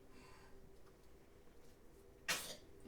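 A single sharp sneeze bursts out from one person partway through an otherwise quiet, low room hum.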